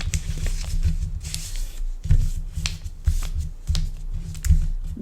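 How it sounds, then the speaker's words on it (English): Paper being folded lengthwise and pressed down into a crease, a series of close, soft crinkling rubs and dull presses in uneven bursts, with no talk. "you want to fold your paper like this, long ways, fold it down"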